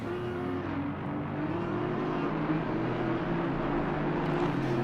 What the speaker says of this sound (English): We hear the Audi of Greathouse taking that engine all the way up into the high RPMs, trying to spin those tires off the line